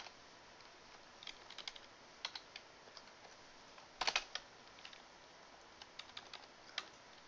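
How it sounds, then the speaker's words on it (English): Quiet, irregular clicking of keys on a computer keyboard, with short bursts of keystrokes and one slightly louder cluster near the middle. "sorry, I'm having trouble typing today."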